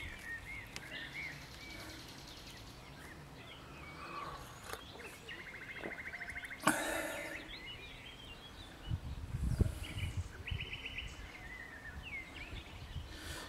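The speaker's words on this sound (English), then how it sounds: "You can hear the birds, listen." Birds sing beside the Meuse river in a quiet outdoor setting, with faint scattered chirps and short song phrases over a low ambient background and a few soft bumps and rustles.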